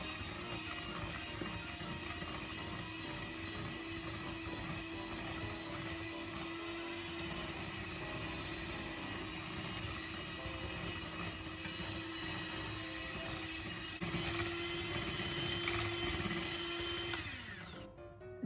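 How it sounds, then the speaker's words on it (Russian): An electric mixer whips softened butter with eggs for a kefir chocolate cake batter, a steady, fairly quiet motor whine running continuously for the whole stretch and rising slightly near the end, with no talking. "И затем буду взбивать миксером до пышности."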